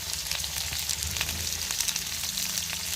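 Potatoes fry in a pan, giving a continuous close sizzle with small crackling pops and no voices.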